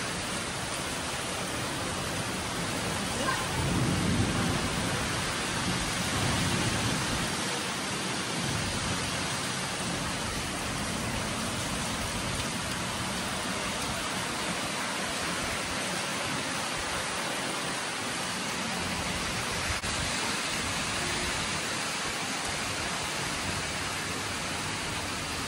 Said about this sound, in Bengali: বিদ্যুৎটা চমকাচ্ছে আর হচ্ছে প্রচন্ড ঝড় বৃষ্টি হচ্ছে